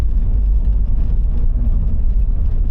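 Car driving on the gravel Hyden to Norseman Road in Australia, a loud, steady low rumble of tyres and engine that stays constant throughout with no voices.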